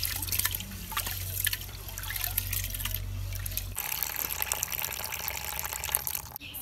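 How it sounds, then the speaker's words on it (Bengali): Rice being washed in water for khichuri, with close trickling, dripping and sloshing as the grains are swirled and rinsed by hand, continuous and fairly soft throughout. "এখন আমি চাল ধুয়ে নিব"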